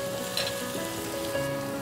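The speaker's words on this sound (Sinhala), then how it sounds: "විනාඩි 2ක පමණ කාලයක් තෙලේ තෙම්පරාදුණු ලූණු තක්කාලි" Chopped onions and tomatoes sizzle steadily in hot oil while tempering, a close, continuous frying hiss with faint stirring and no talk.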